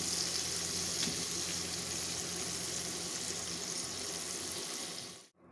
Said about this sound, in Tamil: இப்போது நம்ம இந்த வெங்காயத்தை நல்லா ஒதுக்கி விட்டுட்டு இந்த கருவாடெல்லாம் நம்ம திருப்பி போட்டுக்கலாம்